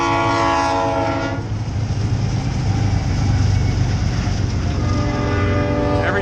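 Train horn blasting beside the Mississippi River, a loud tonal honk at the start fading into the heavy rumble and clatter of passing rail cars, then another horn sounding near the end.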